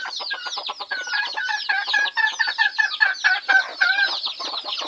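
Bantam labuyo junglefowl chickens cluck continuously close by, a dense run of overlapping clucks and chirping calls with a few brief crow-like notes, and no talking.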